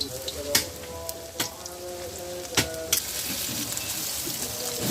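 Water lily fritters frying in plenty of oil in a pan, a steady close sizzle and crackle with a few sharper pops and spatters scattered through.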